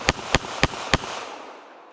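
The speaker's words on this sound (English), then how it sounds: "I'm gonna pull my gun and shoot the guy." Four sharp S&W Bodyguard 380 pistol shots fired at a range, close and loud in an uneven quick sequence, the last echo trailing off.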